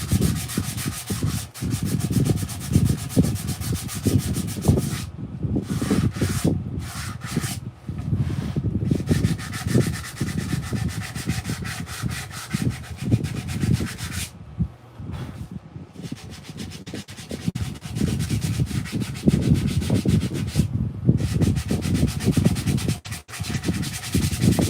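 Wood is power-sanded while carving a mushroom, with a loud, gritty rasp that runs on for a long stretch, broken now and then by brief pauses.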